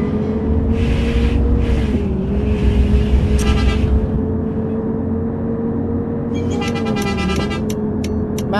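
A MAN bus engine in Bus Simulator Ultima drones steadily with a gently shifting pitch as the bus drives along, with short horn-like beeps near the start and toward the end.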